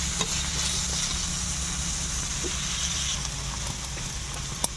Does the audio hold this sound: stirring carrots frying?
yes